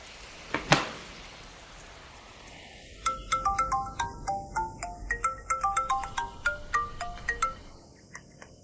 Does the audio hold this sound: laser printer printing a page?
no